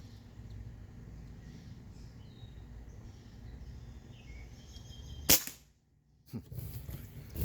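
A Crosman 2260 CO2 air rifle fires a pellet with a single sharp crack, followed by a short quiet gap and a faint distant impact, over soft outdoor background noise.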